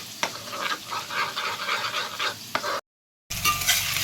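Potatoes fry in a pan, a fluctuating sizzle with a few sharp stirring clicks and scrapes, interrupted by a brief silent gap before the frying resumes.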